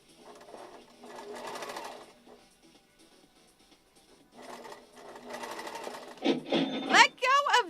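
Sewing machine stitching in two steady whirring runs, close and moderate in loudness, with a voice speaking near the end.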